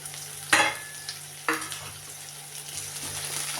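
Onions and green chillies sauté with curry leaves in a hot pan for a cabbage stir-fry; a low, steady sizzle carries a few sharp scraping stirs of a spatula, close by with no voices.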